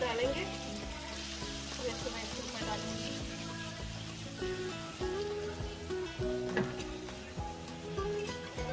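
Chapli kebabs made from minced meat sizzle steadily in a pan of hot oil, a continuous close frying hiss with light stirring and clatter, and no voice over it.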